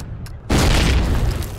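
A grenade explosion in Call of Duty 1 goes off as one loud, close boom after a brief quiet moment, then rolls on as a sustained rumble.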